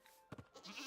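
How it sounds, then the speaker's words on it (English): A goat in Minecraft gives a short, quiet bleat, one brief nasal call with a little soft clatter around it and a low background hum. "Here's the goat."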